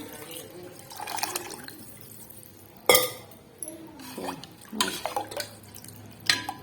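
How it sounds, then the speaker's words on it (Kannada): Water splashes and trickles into a pot of drumstick-leaf (nugge soppu) sambar in a few short bursts, with clinks of a vessel and quiet speech nearby. "ನೀರು ಆ್ಯಡ್ ಮಾಡ್ಕೊರಿ"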